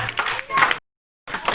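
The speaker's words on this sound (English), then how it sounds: "Please clap for him." An audience at a relationship and marriage workshop claps in short bursts, broken by a brief total silence before the clapping resumes, with some voices mixed in.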